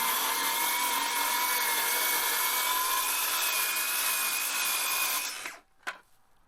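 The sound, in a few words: saw cutting plywood along a straight-edge jig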